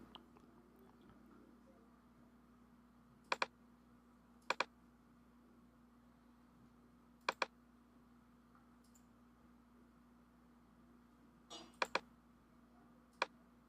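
A computer mouse clicking in a quiet room, faint double clicks in short pairs spaced several seconds apart over a low steady hum, with no voices.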